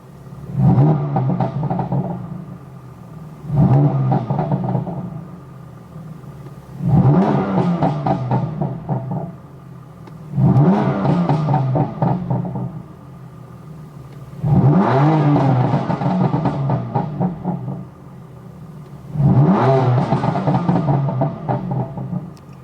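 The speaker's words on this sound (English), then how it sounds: "Let it idle for a bit so you guys can hear like the in-cabin sound of the Catless downpipes" Inside the cabin of a BMW F80 M3/F82 M4 running catless downpipes with an MHD burble tune and open exhaust flaps, six loud, deep revs rise and fall at a steady pace, each held for about two seconds over a low idle rumble.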